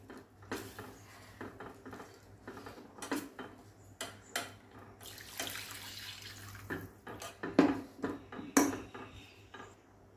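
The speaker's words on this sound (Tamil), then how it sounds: "நல்லா அந்த ஹீட்லேயே நல்லா கிண்டி விட்டுட்டு தண்ணி ஊற்றிடலாம்." Water is poured into a cooking pot of lentil soup on the heat, right after turmeric and a paste have been stirred in. Splashing and running water come with scattered metallic clinks of utensils and pot, close by and without talk.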